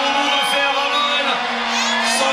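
Spectators at the men's lead finals of the European Climbing Championship in Chamonix cheer and shout in a loud sustained roar for a 33-year-old Spanish climber, with strained voices rising over the crowd.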